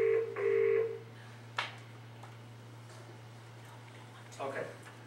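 Telephone call tones sound briefly at the start, two short electronic beeps close together, then a faint click and quiet line hiss with a soft murmur near the end.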